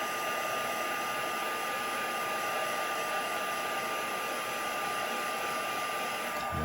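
Heat tool blowing hot air to reheat embossing powder on a paper butterfly for a card, a steady close whooshing roar that runs unbroken and alone, cutting off right at the end.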